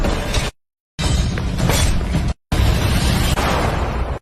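Gunfire in a film scene: three loud, sharp bursts in quick succession, each a wide blast separated by abrupt silent gaps, with no talking.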